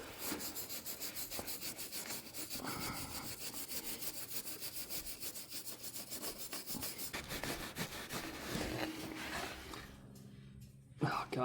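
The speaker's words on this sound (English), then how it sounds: "I don't have a steel brush, but I got a brass brush. So now I'm just gonna clean it as best I can." A brass brush scrubs a rusty, badly pitted LBZ torsion bar in steady back-and-forth strokes, a close, continuous rasping rub that runs nearly the whole time before briefly dropping off near the end.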